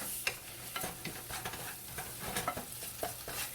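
Shallots sauté with a pinch of salt in a pan for Kerala rasam, a quiet continuous sizzle punctuated by irregular light spoon taps and scrapes, no voices present.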